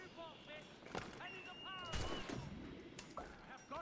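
Gunfire in the game Assassin's Creed Rogue: a few sharp, loud shots crack out amid a busy, noisy battle scene, with voices shouting over and between them.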